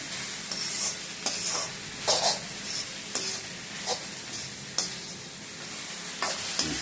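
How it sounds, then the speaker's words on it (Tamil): Pumpkin halwa sautéing in ghee in a pan, with a steady sizzle and repeated stirring scrapes at irregular intervals, close and clear with no talking. "பூசணிக்காய் ஹல்வா நல்லா இதுல வதக்கணும் கொஞ்ச நேரம்."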